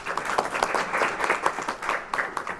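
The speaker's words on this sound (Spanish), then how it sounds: "Aplausos, por favor." Audience applause at a patient safety conference session, a smaller group clapping with distinct individual claps audible in an uneven, pulsing rhythm at moderate volume.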